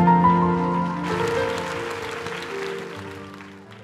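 A church congregation claps their hands in praise of God, a dense wash of applause that rises and continues steadily, fading slightly toward the end, with a sustained tone ringing underneath.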